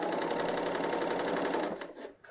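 A BERNINA L 890 sewing machine stitches a woven garment top at a fast, steady rate, its even mechanical whir running close and alone before stopping with a few soft clicks.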